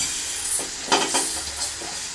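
Lentils go into a pot of winter-vegetable khichuri, giving a soft sizzle and a few faint stirring scrapes in a quiet kitchen.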